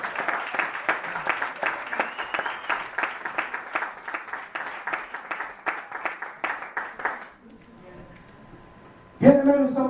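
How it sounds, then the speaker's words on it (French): A church congregation applauds for the Lord, with steady rhythmic clapping sustained for about seven seconds before it stops, leaving a brief hush before a loud voice cuts in. "Acclamons pour le Seigneur."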